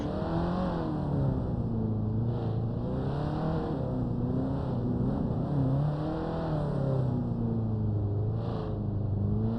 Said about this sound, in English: go on board with Danie, see what his viewpoint is like from the car